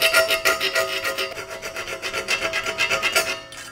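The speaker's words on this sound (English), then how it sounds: "This is just a hacksaw blade that I don't have much to take out." A hacksaw blade cuts a slot in a steel bicycle frame tube during framebuilding, giving a steady, close rasping back-and-forth rhythm of quick strokes that runs through nearly to the end before easing off.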